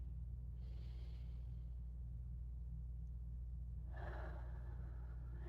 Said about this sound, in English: Alright, we'll take a breath here.